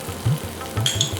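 Turmeric goes into a pan of frying oil for mutton and potato curry, and a short close sizzle follows with a couple of soft stirring knocks.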